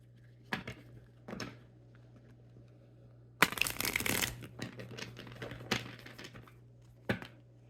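Tarot cards being shuffled in a few short riffling bursts, the longest and loudest near the middle, with quiet gaps between and a steady low hum underneath.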